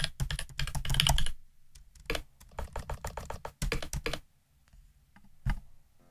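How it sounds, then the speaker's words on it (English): Simulated mechanical keyboard sounds from a MacBook keyboard: rapid typing with crisp mechanical clicks in quick bursts separated by short pauses, close and clear, with no voices. "it just makes a mechanical keyboard sound when you type"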